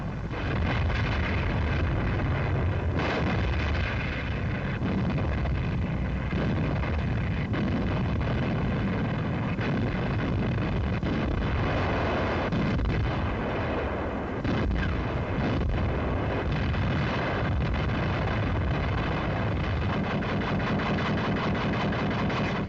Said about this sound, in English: In the background, the bombs are hitting.